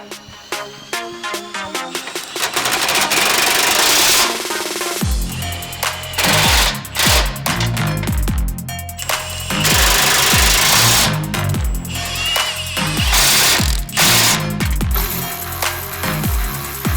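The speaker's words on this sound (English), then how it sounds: "I'm going to speed things along this time around by using my impact" A powered impact wrench hammers loose the nuts on a Jeep JL Wrangler Sport front bumper, loud rapid rattling bursts repeating with brief pauses, close up and continuous through the workshop.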